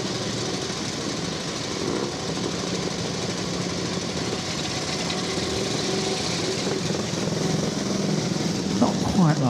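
A vintage 70cc BSA motorcycle runs at a Vintage Motor Cycle Club Banbury Run start, a steady small-engine drone among other idling bikes, with a brief rev near the end.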